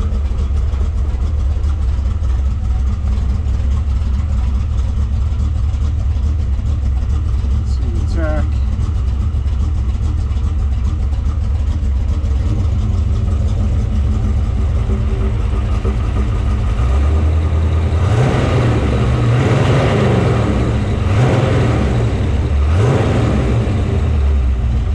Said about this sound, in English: Just an excellent sounding vehicle